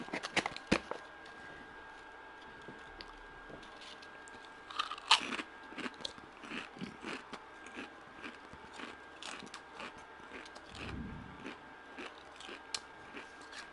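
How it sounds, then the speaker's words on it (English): Pringles crisps being chewed close to the mic: irregular crunchy bites and chewing scattered across the whole stretch, a few louder crunches standing out, with no talking. "I'm sorry if you can hear me chewing in the background."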